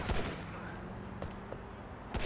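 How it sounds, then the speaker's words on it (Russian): Gunfire aimed at the player in Grand Theft Auto IV: a few sharp, scattered shots crack out at uneven intervals over a steady rumbling game background. "А какого фига по нам стреляют?"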